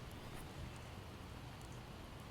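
Steady rain falling in the zombie survival game Project Zomboid, a dense even hiss of droplets with no breaks, filling the whole short stretch.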